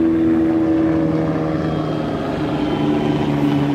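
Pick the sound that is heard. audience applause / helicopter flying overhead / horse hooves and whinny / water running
helicopter flying overhead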